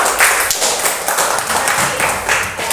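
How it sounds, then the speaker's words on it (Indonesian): Classroom clapping for a student group, a dense wash of many hands at close range, steady and moderately loud through the whole stretch with small surges. "Tepuk tangan untuk kelompok kinestetik"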